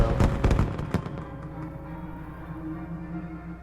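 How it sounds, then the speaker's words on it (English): Fireworks burst at the Gala in Fallout New Vegas, a quick cluster of loud cracking pops up front that fades into a long, rumbling, echoing tail. "Lovely fireworks show."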